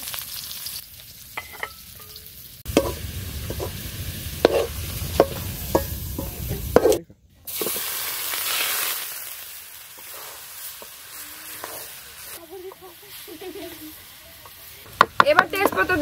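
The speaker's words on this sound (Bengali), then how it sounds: "এবার পেঁয়াজ গুলা ভেজে নেব।" Onions fry in hot oil in a pan at an outdoor village kitchen, giving a steady close sizzle with a few scraping stirs. A brief gap of near silence falls midway, and quieter frying with clatter follows.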